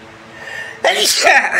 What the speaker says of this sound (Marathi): शिंकाली दादा, सर्दी झाली